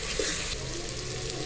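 Tomatoes go into chicken daal chana masala frying in a pan, giving a loud, dense, continuous sizzle close up.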